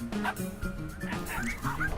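A dog in the Finding Paradise game gives a quick run of yappy barks and yips over roughly two seconds, close and fairly loud against faint game music.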